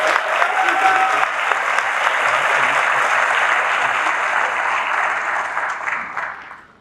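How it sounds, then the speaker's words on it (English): Audience applause at a 2023 high school graduation ceremony, a dense, steady wash of many hands clapping that holds strongly throughout before fading out at the end. "So let's give her another round of applause."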